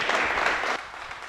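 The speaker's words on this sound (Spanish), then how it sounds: "vamos a darle otro aplauso a mi hermosa Jos" A brief burst of congregation applause during a Sunday church celebration, a full wash of clapping that drops in loudness partway through and carries on more softly.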